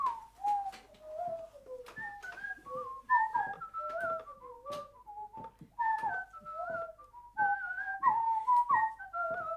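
A person whistles a lively traditional tune, the melody rising and falling in quick ornamented phrases across the whole stretch, close and clear with steady rhythm.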